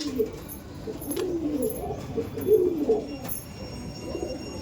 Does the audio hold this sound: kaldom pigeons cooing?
yes